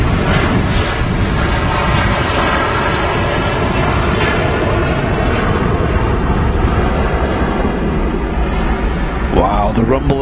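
Deep, continuous rumble of Virgin Atlantic Airbus A330 engines at Manchester Airport, loud and sustained throughout with a broad roar, heard near the runway.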